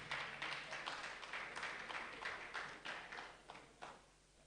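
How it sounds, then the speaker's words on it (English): Applause from an audience welcoming a speaker at an agricultural research institute's annual review and planning workshop: steady, dense clapping through the whole stretch, fairly close, with a few louder bursts and no talk over it. "Please, a round of applause for him."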